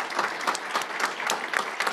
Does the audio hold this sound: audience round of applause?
yes